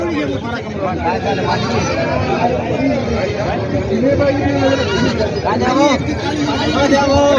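Goats bleating repeatedly at a crowded livestock market in Vasmat, their layered calls rising over constant crowd chatter and people talking nearby.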